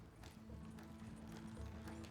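Horse hooves clip-clop in Red Dead Redemption 2, a steady rhythmic trot of several hoofbeats, fairly close over a low rumble of ambience.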